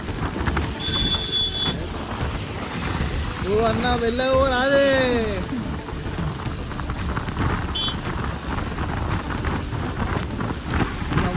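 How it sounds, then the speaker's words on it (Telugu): Steady heavy rain hissing throughout, with a voice calling out briefly in the middle over the downpour. "వర్షం అయితే ఘోరంగా పడుతుంది."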